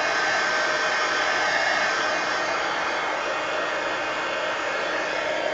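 A heat tool or hair dryer blows a steady, close whoosh over inked art journal pages, unbroken for the whole stretch with no talk.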